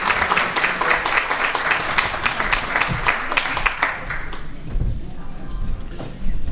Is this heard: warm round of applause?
yes